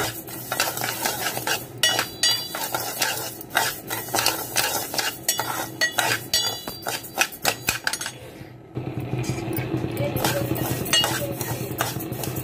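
Mung dal and a second ingredient dry-roasting in a pan for temple offering pongal, a utensil scraping and clinking in irregular strokes, then a steadier louder sizzle near the end; no talking.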